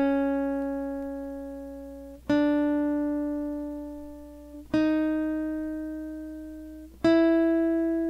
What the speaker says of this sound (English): Got muted strings down here on the bottom, muted strings on the top.